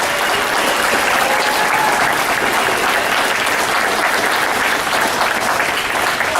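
Audience applause at a junior high school spring concert and awards event, steady dense clapping from a full room that holds evenly loud from start to finish with no voices above it.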